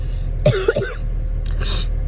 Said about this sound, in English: I'm gonna cough through this